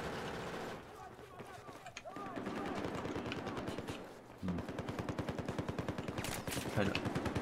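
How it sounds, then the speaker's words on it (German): Rapid bursts of automatic gunfire in the shooter game Battlefield 4, a steady rattling volley that pauses briefly and then resumes with sharp repeated shots, with someone talking over the battle. "von wo werde ich beschossen?"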